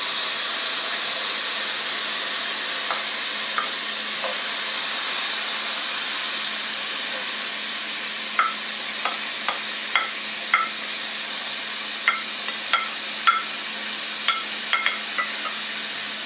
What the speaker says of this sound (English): Now we are going to be adding the tomatoes and the green pepper.